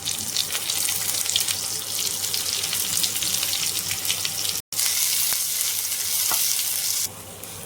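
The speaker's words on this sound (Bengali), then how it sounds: "এগুলো একটু ভালো করে ভেজে নেব এবারে পেঁয়াজ কুচিটা দিয়ে দেবো" Chopped onion and garlic sizzle steadily in a pan, a continuous close hiss with a brief break midway, then frying resumes.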